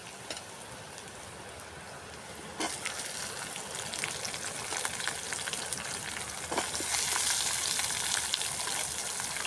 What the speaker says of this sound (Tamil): இப்போ நம்ம வெங்காயத்தை போட்டோம்.